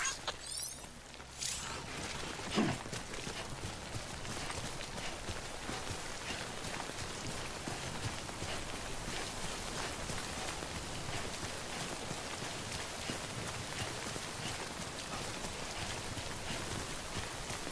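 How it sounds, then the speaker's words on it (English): Steady rain hisses across every surface in the Death Stranding game world, a dense, even patter that runs without a break. A brief louder knock or footstep-like sound comes early on, and no one speaks. "Don't stay out in the rain any longer than you have to."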